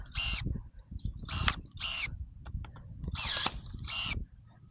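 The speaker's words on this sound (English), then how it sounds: "You can see how easily I can cut these branches." A Wild Badger Power 20V cordless electric pruner snaps through branches, some over an inch thick, making about five close whirring bursts of motor and blade, each ending in a crunch, with short quiet gaps and ratcheting between them.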